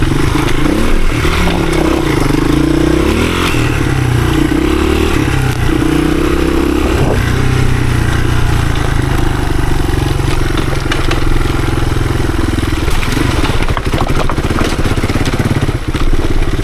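A 1983 Honda XR200R, a 15 hp dirt bike, ridden on rough trails in the woods, its single-cylinder engine loud and close, rising and falling in pitch as the throttle opens and closes, with clatter over bumpy ground.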